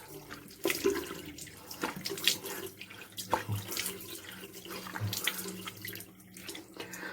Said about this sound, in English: I'm going to wash it with cold water.